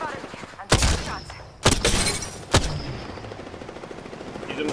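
Three loud, close gunshot blasts ring out in the battle royale video game Apex Legends, each followed by a ringing tail, with lighter rattling shots and a voice in between.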